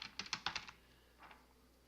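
Several quick keystrokes on a computer keyboard while entering a product search term in an online store setup, a short burst of clicks followed by a couple of softer taps, close and fairly quiet.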